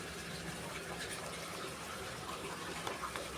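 Water poured from a cup onto spring onion plants in a simple home garden, a steady splashing, gushing trickle heard close up for several seconds with no voices.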